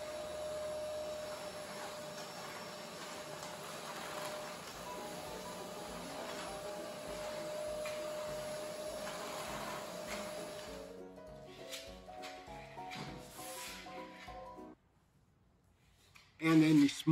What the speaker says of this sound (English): And then vacuuming it up. Again, using the HEPA filter.